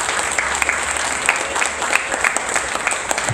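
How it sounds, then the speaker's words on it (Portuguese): A church congregation claps during a Portuguese-language sermon, an even, moderately loud spread of hand claps with occasional sharper individual claps standing out. "Será que a gente pode aplaudir ao Senhor?"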